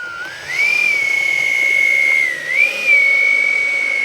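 A loud, high, steady whine rises quickly and holds, dips briefly, then swells back up and sustains from an Xfly J-65 twin 70mm ducted-fan RC business jet spooling up.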